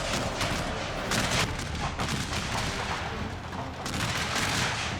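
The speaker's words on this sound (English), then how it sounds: "Artillery's getting some really good hits on these clustered Union forces." Artillery fire rolls through a Civil War battle video game recreating First Manassas, a dense, loud and continuous barrage of overlapping booms and gunfire with no clear gaps across the whole stretch.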